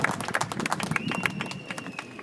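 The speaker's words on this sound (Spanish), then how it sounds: "Un aplauso para él." Audience applause at a political rally in Tlalpujahua, Michoacán, with dense, steady clapping spread across the whole moment, a crowd applauding together at moderate level.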